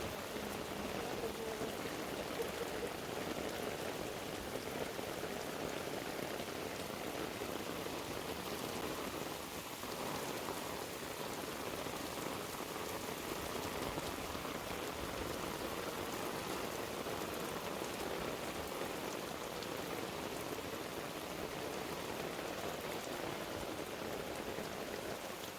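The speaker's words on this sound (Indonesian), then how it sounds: "tapi karena kondisinya hujan" Steady, dense rainfall at Tirta Empul temple in Bali, a continuous close hiss of drops on surfaces lasting the whole stretch without a break or voices.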